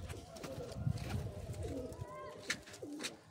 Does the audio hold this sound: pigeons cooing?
yes